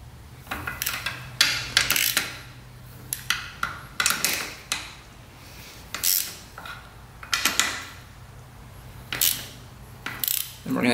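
A hand ratchet backs bolts off a race quad in a run of quick clicking bursts, each a short rattle of pawl clicks with brief pauses between, close and clear without talk.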